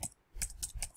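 Keys on a computer keyboard are pressed, including Enter, giving a few faint, crisp clicks in quick succession.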